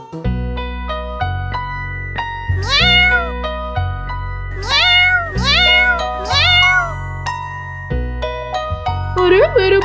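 Kittens calling again and again near a door, bright repeated meows in quick succession over a steady tonal music bed, growing more insistent toward the end.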